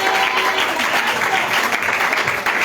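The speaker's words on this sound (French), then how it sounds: "Let's clap the Lord." Congregation at a church wedding service clapping together in steady, dense applause that fills the room, close and loud, with faint voices mixed underneath.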